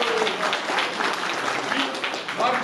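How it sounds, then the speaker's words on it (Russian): Clapping fills a meeting hall where Tver residents have gathered with a politician, a continuous, fairly loud round of applause with a voice rising briefly over it. "Аплодисменты!"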